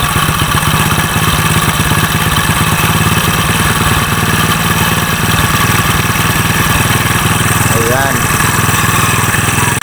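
A motorcycle engine idles loud and close during carburetor tuning, its rapid, steady chugging pulse continuing throughout with slight changes in pace, while someone talks over it.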